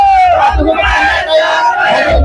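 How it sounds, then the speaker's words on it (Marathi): A large outdoor rally crowd in Wardha cheers and chants Modi slogans, loud rhythmic massed voices with yelling, close and continuous. "मोदी मोदी हे नाराचे संपूर्ण या ठिकाणी जल्लोष सुद्धा होत आहे"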